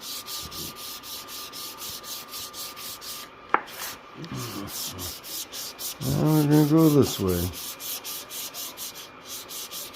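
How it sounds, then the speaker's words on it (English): Wood is hand-sanded in a shop with quick rhythmic rubbing strokes, close and moderately loud, interrupted by a sharp knock and a short spoken line partway through. "I can tell when I'm sanding too hard because my plaque starts to move."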